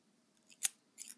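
Scissors snip cardboard a few times close up, quick crisp cuts separated by brief pauses, against near silence.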